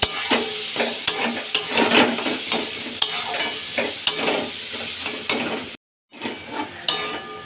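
Note shak greens with turmeric and a pinch of sugar are stirred in a pan over raised heat, giving repeated close scraping and clanking strokes over a steady frying sizzle, broken by a brief gap.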